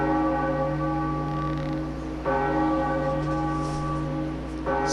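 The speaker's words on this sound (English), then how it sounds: "now it's time to ring the bell" A bell rings in The Legend of Zelda: The Wind Waker, sounding loud, resonant and sustained, struck twice with long ringing tones and no talk.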